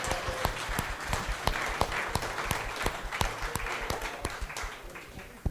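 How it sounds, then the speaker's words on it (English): A crowd applauds steadily, many hands clapping at once in a dense, sustained burst with no talking over it. "Give him a big round of applause right there."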